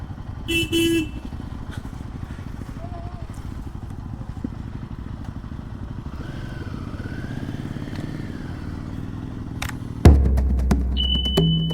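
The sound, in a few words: motorcycles arriving and parking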